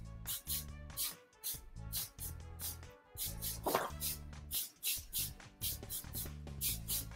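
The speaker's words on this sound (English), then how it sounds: "All right, so let's spray it down." Repeated hissing bursts of a spray bottle misting chalk paint on a wooden dresser, several quick sprays in an uneven rhythm, close and fairly clear.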